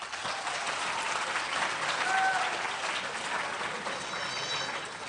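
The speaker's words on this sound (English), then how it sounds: "let's have a round of applause for our finalists" Audience applause fills a school poetry recitation finals event, a dense, steady wash of clapping that stays loud and unbroken from start to finish.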